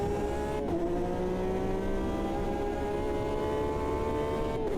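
A race car in a racing video game, its engine held at a steady high-revving drone that is pushed hard throughout, loud and continuous with a brief shift in pitch near the start.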